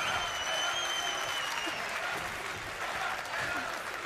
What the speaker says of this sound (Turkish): Güzel bir alkış yapar mıyız lütfen?